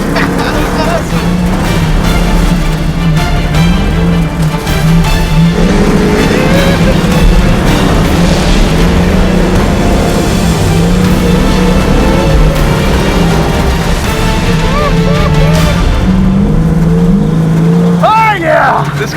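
A dirt race car driven hard on a loose track, its engine roaring and revving through gear changes with tire noise, close and loud throughout; occupants shout excitedly at times over the engine.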